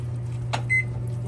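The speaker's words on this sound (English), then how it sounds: "And you're setting your oven to 350. So it's preheating now" An oven is set to 350 to preheat: a steady low appliance hum runs throughout, broken by a short click and then a single bright electronic beep.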